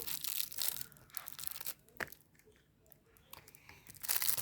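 Toy box packaging is torn open and crinkled close by, with irregular rips and crackly crumpling that fade in the middle and return louder near the end.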